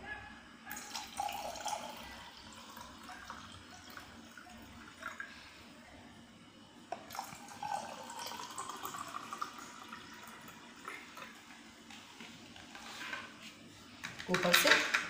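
Juice poured into a glass of mint lemonade (nimbu pudina sharbat) with sabja seeds gives a steady, soft liquid trickle at close range, ending in a brief louder clatter.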